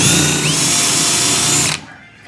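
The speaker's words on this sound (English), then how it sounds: "a little bit of oil in the hole helps these things tremendously if you're drilling through multiple layers" A power drill bores through the sheet-metal roof of a Mustang during a top chop, a loud, steady high-pitched whine that runs for nearly two seconds, then cuts off abruptly into quiet shop noise.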